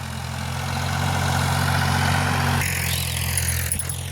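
A tractor engine idles close by with a steady, low, throbbing rumble that shifts slightly partway through.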